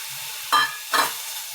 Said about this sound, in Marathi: कढईमध्ये आपण स्ट्रॉबेरी टाकणार आहोत।